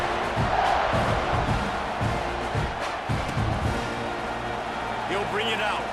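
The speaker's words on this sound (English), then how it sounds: "You think this crowd's going to get loud when their defense comes on the field?" A stadium crowd roars continuously in the EA Sports College Football 26 video game, a loud, dense wash of cheering with rhythmic swells, under faint commentary-like voices.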